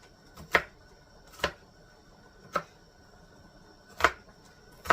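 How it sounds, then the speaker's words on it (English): A knife dices bologna sharply on a cutting board five times at uneven intervals, each stroke crisp and close, with quiet pauses between. "We're going to dice it up small."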